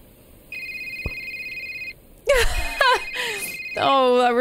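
A cell phone ringing in the video game A Short Hike, a steady electronic ring tone in two bursts, followed by bright chirpy in-game character sounds.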